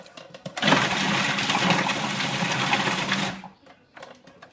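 A kitchen food processor whirs loudly for about three seconds as it chops comfrey and mustard leaves, starting abruptly and cutting off, with light clattering before and after.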